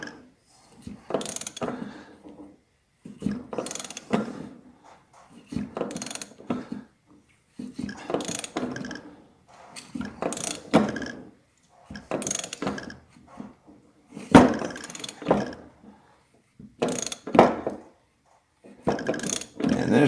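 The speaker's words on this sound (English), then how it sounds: "And you can see that race just inching out of there." A bearing inner race being pulled off a Harley transmission main shaft with a puller, heard as loud, close mechanical ratcheting bursts that repeat every couple of seconds, separated by brief quiet gaps.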